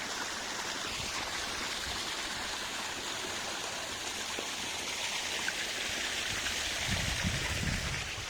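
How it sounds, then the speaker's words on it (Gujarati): Steady rushing water flows continuously through a farm irrigation channel in summer, a constant close hiss and gurgle with no talking. "આમ આમ પાણી જાય છે"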